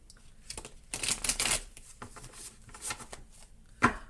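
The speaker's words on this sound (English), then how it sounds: "going to shuffle it one more time here." Several bursts of tarot cards being shuffled, crisp riffling flurries close by with short pauses between, ending in a sharp tap.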